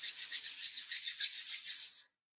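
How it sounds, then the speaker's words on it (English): Palms rub briskly back and forth in a steady rhythm during a yin yoga session, about a dozen dry rasping strokes close to the mic, with no talking, ending abruptly in silence. "Palms together, rub your hands back and forth,"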